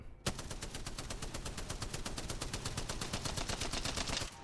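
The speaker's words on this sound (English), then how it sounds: "That's me shooting a target from all the way over here" A rapid, evenly spaced stream of about thirty gunshots from a powerful automatic weapon firing at a distant target in Apex Legends, loud and sustained for several seconds before stopping abruptly.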